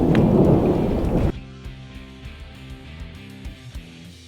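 A loud roll of thunder rumbles up close during a desert monsoon storm, then fades into steady rain with scattered drops tapping nearby.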